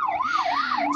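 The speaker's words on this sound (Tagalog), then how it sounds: "ambulance pa yun. Hindi pala. Fire truck." A fire truck siren on a busy Hong Kong street in Central, heard from a tram, sweeps up and down in a clear wailing cycle over low traffic rumble.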